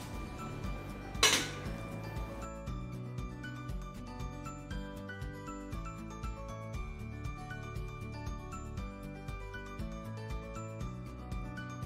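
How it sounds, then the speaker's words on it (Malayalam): Rice dumplings go one by one into a metal steaming pot, making repeated light metallic clinks and taps against the vessel, close and steady throughout with no speech. "ഈ ഉണ്ടകൾ നമുക്ക് ഇത് ഈ പാത്രത്തിൽ വെച്ച് നമുക്ക് സ്റ്റീം ചെയ്യാനായിട്ട് നമുക്ക് ഇതിനകത്തോട്ട് പെറുക്കി വെക്കാം"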